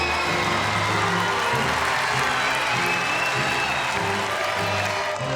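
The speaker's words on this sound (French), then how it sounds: "Un fort applaudissement pour les nains." Sustained crowd applause at a season programme presentation, with a dense wash of clapping and some cheering, steady and loud throughout, with a faint voice in the background.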